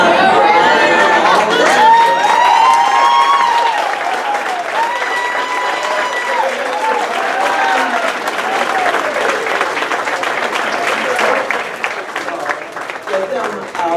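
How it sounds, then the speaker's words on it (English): Loud applause and cheering from a graduation audience, sustained for the whole stretch, with shouts, whoops and crowd chatter riding over the steady clapping. "Round of applause."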